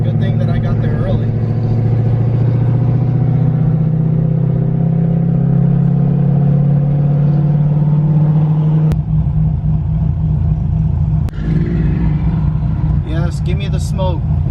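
A Corvette engine rumbles loud and close with a deep, sustained drone, swelling and dropping as it revs, while people talk over it and crowd noise rises near the end.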